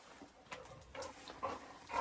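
Basset Hound whimpering softly indoors, a few faint thin whines and snuffly breaths at low volume, close to the recorder.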